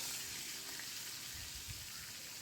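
Green chilies frying in hot oil in a pan for a brinjal moju, a continuous soft hiss and sizzle with faint low bubbling, no voices.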